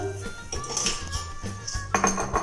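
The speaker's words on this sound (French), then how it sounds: "Je pose mon cake dans l'assiette." A freshly fried funnel cake is set onto a plate, with light clinks and scrapes of dishes and utensils in a quiet kitchen.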